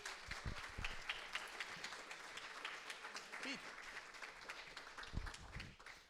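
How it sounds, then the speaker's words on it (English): Applause from a tech meetup audience at a Process Mining event in Trento, a steady patter of clapping running through the whole stretch at moderate level, with a few voices and some handling noise mixed in. "So a big applause for us."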